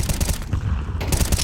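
Rifle gunfire in a Counter-Strike match, loud rapid bursts of shots rattling continuously through the moment with a brief lull in the middle.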